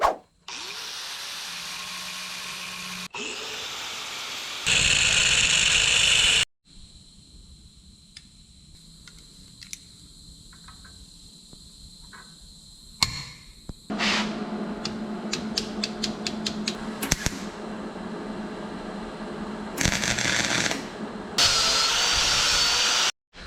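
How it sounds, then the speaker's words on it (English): A metal brake booster rod on a classic car is cut down with a power tool, in loud bursts of high-pitched grinding separated by quieter gaps, handling clatter and a few sharp clicks. "So I think on the rod, I'm gonna cut off about 1/2 of an inch."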